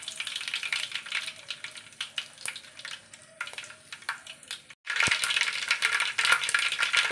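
Mustard seeds crackle and sizzle in hot oil in a pan for Onam-special ginger curry, a dense steady spatter with scattered pops that swells suddenly louder and brighter partway through.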